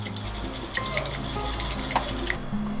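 Matcha being whisked in a bowl gives a quick, steady scraping swish over a low background hum, close up, with a few light clinks and no talk.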